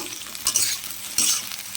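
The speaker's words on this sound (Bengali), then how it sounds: "দেখো এখানে বেগুন ভাজা করছি, লম্বা লম্বা করে টুকরো করে নিয়েছি।" Long strips of eggplant fry in hot oil with a soft, continuous sizzle, broken by two brief bursts of stirring and scraping up close.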